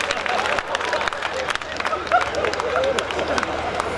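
An audience applauds at a Hindi comic poetry gathering (hasya kavi sammelan) in Behror, with scattered clapping and crowd noise mixed with a voice on the sound system.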